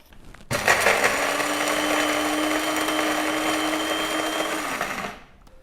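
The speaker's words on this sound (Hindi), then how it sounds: "मसाले को हमने अच्छी तरह से ग्राइंड कर लिया है" An electric spice grinder whirs steadily, pulverising roasted spices into powder: a loud, continuous motor roar that starts abruptly, holds for about four and a half seconds, then cuts off and winds down.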